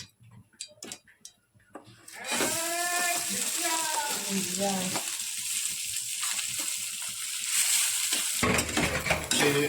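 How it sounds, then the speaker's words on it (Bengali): Ghee added to hot oil in a pan for Basanti pulao sizzles loudly and steadily at close range after a few clatters, while someone talks over the frying. "এই যে তেলের মধ্যে ঘি দিয়ে দিলাম এই যে তেলটা আমার গরম হয়ে গেছে"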